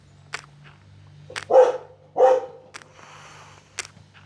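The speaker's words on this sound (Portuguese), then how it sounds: "Ainda pra faltar o cachorro late, né?" A dog barks twice in close succession, loud and near, with sharp clicks and knocks scattered before and after and a low steady hum underneath.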